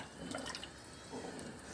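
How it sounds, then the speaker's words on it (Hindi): Water pours into a cooking pot being readied for rice and qeema biryani, a soft steady splashing and trickle running alone and quietly throughout. "तो अब हम ये इसके अंदर ये पानी डालेंगे।"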